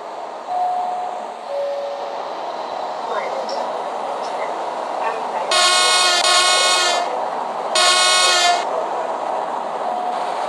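A steam locomotive horn in the game Euro Train Sim 2 sounds twice in loud, sustained blasts over a train's rumble, after some quieter earlier toots.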